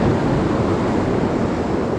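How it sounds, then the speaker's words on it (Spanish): Rough sea waves crash at a fishing spot on the shore, making a loud, continuous roar of surf mixed with wind buffeting the microphone. "Viene bravo el mar ahora."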